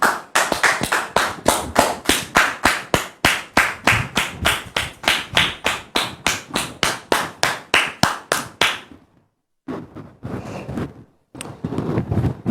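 A studio audience claps in steady, loud unison beats to welcome a guest, then a brief pause before scattered rhythmic clapping resumes in short bursts.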